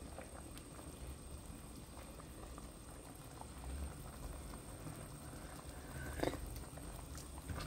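A pot of fish soup with malunggay leaves and tofu boils at a steady bubbling simmer, soft and close, with one brief louder clatter.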